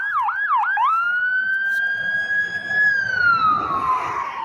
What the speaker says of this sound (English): The ambulance just drove by.